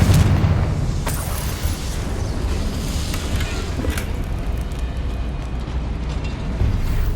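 A Confringo fire spell bursts in Hogwarts Legacy gameplay, a loud continuous roaring blast with crackling pops and sharp transients sustained throughout, no voices over it.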